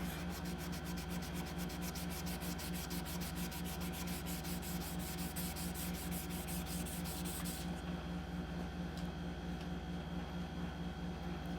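Steady rasping scrape of sandpaper on a steel chef's knife blade, hand sanded, continuous and close, with a rhythmic back-and-forth stroke that fades slightly toward the end.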